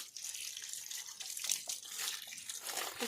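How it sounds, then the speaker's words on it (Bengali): Vegetables are rinsed under running water, a soft, steady splashing and trickling with brief louder swirls, heard fairly quietly and alone. "এবার ভালো করে সবজিগুলো ধুয়ে নেবো"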